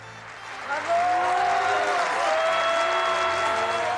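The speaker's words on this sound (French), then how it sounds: "la représentation de l'école des femmes faisait applaudir les uns et hurler les autres" A theatre audience at a performance of L'École des femmes breaks into applause and shouting, a swelling crowd roar with raised voices and tonal calls rising over the clapping.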